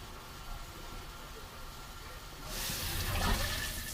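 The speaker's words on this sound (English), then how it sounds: "Flush that down." An RV toilet flushes down into the holding tank after a rinse with water, a broad rushing whoosh starting partway through and building to a loud swirl over steady low background noise.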